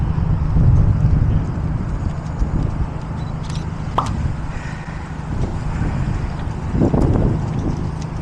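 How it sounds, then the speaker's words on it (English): Strong outdoor wind buffets the microphone in a continuous low roar that swells and eases, with a few brief clicks and no speech. "It's so windy though, man."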